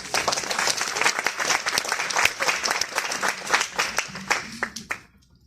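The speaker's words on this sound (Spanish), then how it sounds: "Un fuerte aplauso para el ingeniero Gutiérrez." An audience at a university seminar gives a strong round of applause for an engineer, many crisp claps with some standing out, swelling then quickly dying away into near silence at the end.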